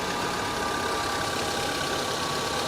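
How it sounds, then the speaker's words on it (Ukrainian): A used car's engine idles steadily just after a cold start, a continuous close mechanical hum with a faint ticking knock running the whole time and no voices. "Працює він гарно, От він запустився зараз на холодну"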